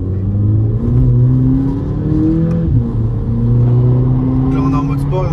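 A stock 200 hp VW Polo GTI in sport mode pulls hard at full throttle, its engine note rising steadily and loud up close, dipping briefly mid-way before climbing again.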